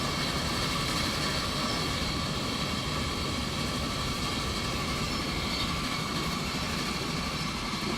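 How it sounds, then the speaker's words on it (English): Game train from Transport Fever rolling along steadily, a constant broadband rumble and clatter with hissing highs, fairly close and unbroken, with no voices over it. "we've got this other train coming the other way"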